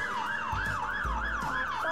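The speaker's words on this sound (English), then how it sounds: "Siren's on." A fire engine's siren wails in a fast, regular rising and falling warble, loud and continuous with a low rumble underneath.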